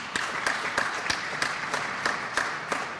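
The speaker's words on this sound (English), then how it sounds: "So a round of applause for David and the Union League Club." Audience at the Union League Club applauds for David, a steady patter of clapping with a few sharper individual claps standing out at a regular pace, moderately quiet and alone without talk.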